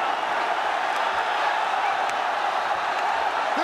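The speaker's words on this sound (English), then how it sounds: "This crowd is crazy." A dense, steady roar of a crowd cheering at a ONE MMA fight, loud and continuous throughout with no break.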